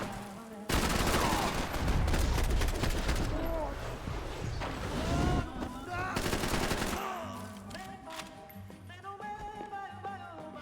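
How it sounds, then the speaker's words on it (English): Loud, dense gunfire in the video game Max Payne 3, with sustained bursts of shots and echoing impacts that ease off into scattered rounds near the end. "Max, don't shoot the fucking sky."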